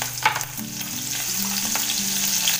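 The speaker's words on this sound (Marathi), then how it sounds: "तेल बघा आता झालंय चांगलं गरम आणि त्यात टाकते तर मिरची" Green chillies hit hot oil in a home kitchen pan, giving a steady, close crackling sizzle that runs throughout without pause, with a few soft clinks of utensils.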